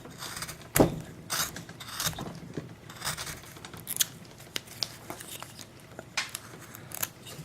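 Chisel cutting into wood while carving a small villager figure, a series of sharp scraping and snapping strokes at irregular intervals, close and fairly quiet with no talk.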